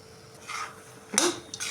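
Wheat flour halwa with cashews is stirred in a metal pan, a utensil scraping and clinking against the pan in a few close, distinct strokes, with no talking.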